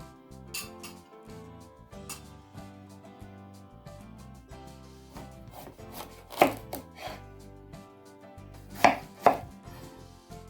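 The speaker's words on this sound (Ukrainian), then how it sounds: "Нарізаю гарбузик." A knife chops steadily through firm raw pumpkin on a board, sharp irregular knocks over quiet background music, with a few louder thuds.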